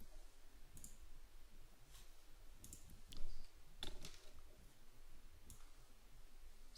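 Computer keyboard keys and mouse buttons click sparsely at close range during desktop software work, including a Control V paste shortcut, with scattered light taps and a couple of firmer presses.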